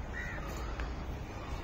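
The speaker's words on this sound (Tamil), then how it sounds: "காக்கா சத்தம்," A crow gives a single short caw at a distance against a constant outdoor background hiss, faint and brief.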